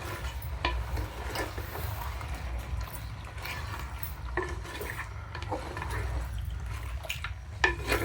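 Boiler chicken frying in ghee in a pan for a Tulu-style chicken ghee roast, a steady low sizzle with scraping and stirring sounds now and then, close and moderately quiet, with no talk.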